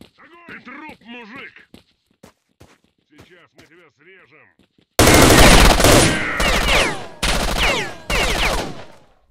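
Gunfire in S.T.A.L.K.E.R.: Shadow of Chernobyl: loud, close automatic bursts in four separate volleys with short gaps, coming after a stretch of quiet talking.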